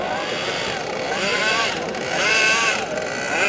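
A loud methanol-engined retro RC jet with a modified exhaust whines and roars with sweeping pitch shifts as it passes, its harsh exhaust tone rising and falling, close to the listener.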